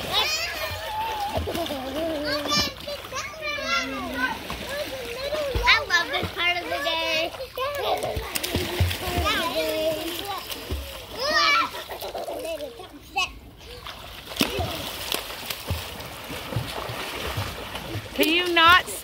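Water splashing in a new home swimming pool as children play, intermittent sloshes and splatters mixed under near-constant children's chatter and shouts.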